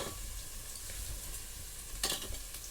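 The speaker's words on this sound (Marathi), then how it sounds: "मोरी जिरा आणि कांदा आणि तेल घालून ही फोडणी घातलेली आहे" Cumin and onion tempering sizzling in hot oil for misal, a dense continuous hiss close by with a brief louder scrape of stirring near the end, no voices.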